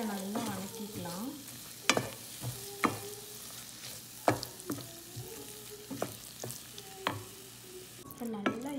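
Mushrooms sautéing in curd sizzle quietly in a pan while a spoon scrapes and taps the pan in irregular sharp knocks, close and fairly faint.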